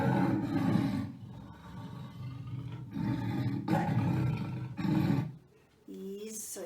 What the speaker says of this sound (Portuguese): Isso, esse é o som do leão.